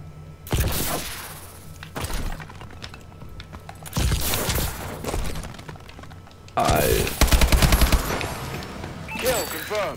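Gunfire in Call of Duty hardcore multiplayer comes in sharp bursts and rattling volleys between quieter stretches, with some rapid automatic fire near the end.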